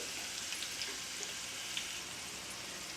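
Garlic and curry leaves sizzle steadily in hot oil on a stove, a soft continuous crackle with small pops, with no voices present.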